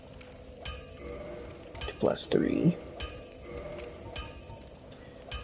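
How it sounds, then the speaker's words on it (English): Weapon reinforcement at the blacksmith in Dark Souls Remastered: light metallic clinks repeat at a steady pace, with a brief shimmering swell in the middle and a voice speaking briefly. "we'll go ahead and reinforce our weapon."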